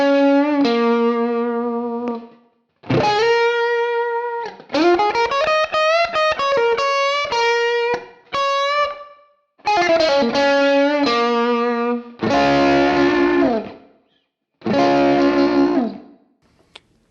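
An electric guitar lick played through a Fractal preset with a T808 drive and input boost on the amp: distorted sustained notes and quick runs in several phrases separated by short pauses, loud and alone.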